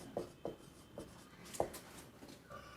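Marker or chalk writing a heading on a board during a chemistry lecture on coordination compounds, heard as a series of short scratchy strokes spaced about every half second, close and moderately loud with no talk.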